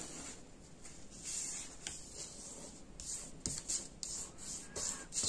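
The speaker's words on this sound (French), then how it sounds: "on va pouvoir réaliser nos pliages, marquer nos plis" Paper folds pressed and scored into pieces of card for a double-fold joy fold card, heard as soft scraping rubs with a few sharper creasing strokes, close and faint, with no talking.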